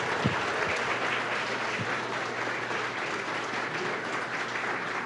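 Applause for a doctor at a Brazilian agriculture program event, dense continuous clapping from a large audience, loud and steady from start to finish with no talk on top.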